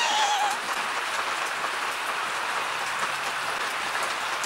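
Steady rain falling outdoors, heard as a dense, even patter of drops on surfaces that continues throughout without pause, fairly loud and close, with no speech.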